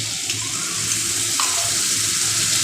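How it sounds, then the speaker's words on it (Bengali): A splash of water hits spice paste frying in a wok, setting off a constant, fairly loud hissing sizzle that fills the short moment without any talk. "সামান্য একটুখানি আমি জল দিয়ে দেব, যাতে মশলাটা ভালো ভাজা হয়।"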